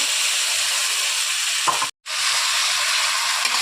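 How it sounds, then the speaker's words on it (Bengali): Spice paste fries with a splash of masala water in a pan for a cauliflower muri ghonto, a loud, dense, continuous hissing sizzle with a brief gap partway through, with no voices. "একটু মশলার জল একটু দিয়ে হালকা করে একটু মশলাটাকে কষিয়ে নেব"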